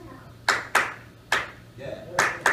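A single person claps a fancier syncopated pattern for a song at a live show in Seattle's Hearthstone, with about five sharp claps in uneven pairs and a brief hummed voice between them.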